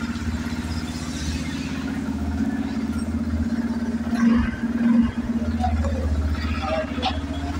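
A Yamaha FZS V4 motorcycle idles just after starting, a steady low throbbing engine hum heard up close, rising briefly in a couple of light blips while someone talks over it.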